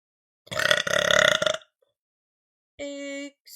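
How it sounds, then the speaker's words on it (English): Two loud, close burps from a person: a long rumbling belch lasting about a second, then a brief silence and a second, shorter belch. "and I burp and I swear"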